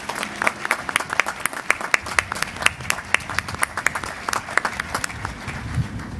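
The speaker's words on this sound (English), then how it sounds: "So how about a big round of applause for our JAG Corps all over the world and everything they do for us every day." Audience applause at a US Navy JAG change-of-office and retirement ceremony, sharp individual claps clearly audible in a lively, sustained round from a moderate-sized crowd.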